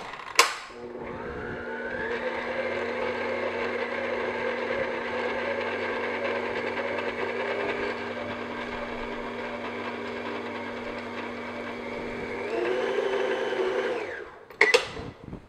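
An electric mixer beating flour mixture into butter for raspberry oatmeal squares, a steady motor whir switched on and held for over ten seconds at an even pitch, then rising briefly before cutting off with a clunk, close, no talking.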